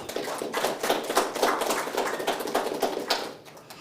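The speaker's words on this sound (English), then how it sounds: "you deserve a round of applause on that" At a press conference, a room of people gives a brief round of applause, a dense patter of hand claps that rises and fades over a few seconds.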